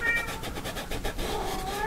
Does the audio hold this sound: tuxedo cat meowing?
yes